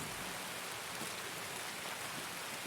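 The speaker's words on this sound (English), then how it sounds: "There's so much rain coming down." Heavy, steady rain pours down in a shooter video game raid, a dense continuous hiss of drops hitting surfaces with no breaks and no one talking.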